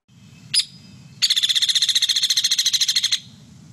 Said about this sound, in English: Okay, and here's the hairy woodpecker.